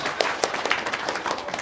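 A brief burst of scattered hand clapping, fairly faint and uneven, like a small audience applauding.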